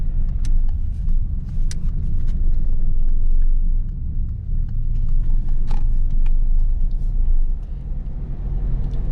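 A car drives steadily through a corner at low speed, its engine a constant close rumble inside the cabin with small mechanical knocks and clicks, and no talking.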